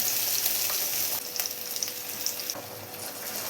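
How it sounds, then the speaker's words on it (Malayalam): Cooked chickpeas tipped into a sizzling tomato masala for a creamy kadala kurma, a loud close frying hiss that dips as they land, then steady sizzling with stirring scrapes. "ഇനി ഇതിലോട്ട് വേവിച്ച് കടല ചേർത്ത് കൊടുക്കും"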